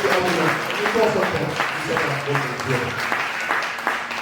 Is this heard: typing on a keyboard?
no